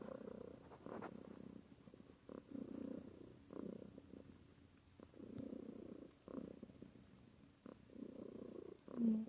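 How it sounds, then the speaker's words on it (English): Cat purring close up, a soft low rumbling in repeated in-and-out breath cycles over about nine seconds, faint and steady with no voices. "She's just purring away here."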